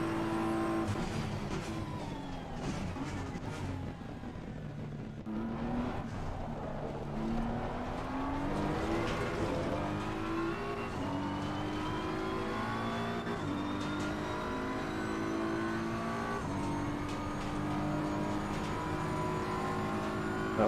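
A Ferrari race car engine in the racing game Assetto Corsa Competizione, revving hard and continuously with rising and falling pitch through gear changes, loud and close throughout with no talk.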